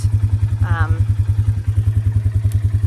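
Four-wheeler ATV engine idling on a wet trail, a steady close low thumping pulse throughout, with a brief faint whine over it partway through.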